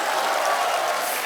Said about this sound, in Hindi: तालियां आलिया के लिए